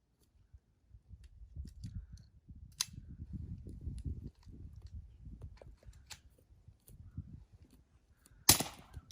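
Suppressed Walther SP22 M1/M2 .22 pistol fired at a target: a few brief, muffled cracks spaced seconds apart, the last one loudest, over low rumbling handling and shuffling noise close by.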